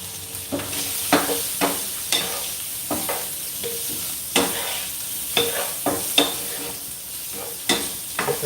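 Chicken and eggs frying in a pan give a continuous close sizzle, broken by repeated sharp scraping strokes of a utensil stirring and moving the food, with no talk over it.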